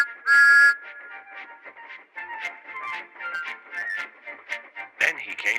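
A storybook steam engine's whistle sounds in one loud, shrill blast near the start, followed by a narrator voicing two imitated high "peep" whistles.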